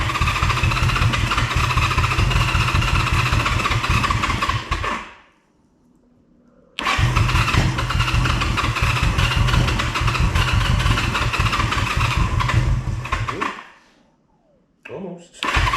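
A 1974 Honda CB360 motorcycle, run for the first time after sitting in storage, chugs and idles with a steady low throbbing exhaust pulse, cuts out abruptly twice, and catches again with a near, loud, rough running note.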